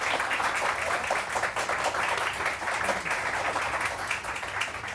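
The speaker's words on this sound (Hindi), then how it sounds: "पलवशा के लिए बहुत सारी तालियां" A studio audience on a morning TV show claps for a guest named Palwasha, a steady, full round of applause that lasts the whole stretch without fading.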